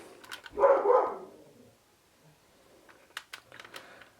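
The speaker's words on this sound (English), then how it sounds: "Sorry if you can hear my dogs barking in the background" Dogs bark in the background, one muffled burst early, then a few faint distant yaps later, against near silence.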